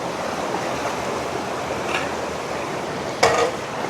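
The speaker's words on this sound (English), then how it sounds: "The water's really moving past there." Fast-moving water rushes through a stream in a hidden canyon, a steady broadband roar close by, with a couple of brief splashy bursts over the constant flow.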